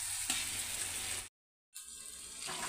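Bell peppers sizzling and being stirred in thick gravy in a pan, a steady close frying hiss with faint scraping, briefly cut to silence midway.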